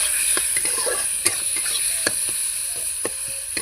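Prawns with panch phoron, salt, turmeric and red chilli powder frying in hot oil: a steady bright sizzle runs throughout, broken by several sharp clicks and scrapes of a utensil stirring the pan.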